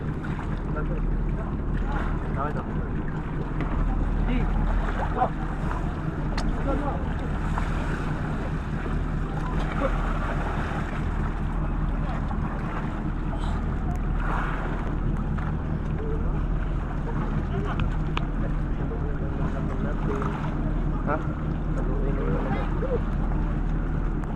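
A boat engine drones steadily out on the water, loud and constant, with low rumble and wind buffeting, while voices talk faintly beneath it.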